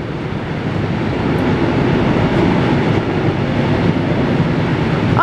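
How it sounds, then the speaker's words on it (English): A loud, long train rolls past close by in Königswinter, Germany, a dense steady roar and rumble of wheels on rails that fills the whole stretch without letting up. "Wait a second, loud train."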